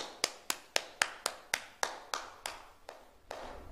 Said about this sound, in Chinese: 为英雄美人鼓掌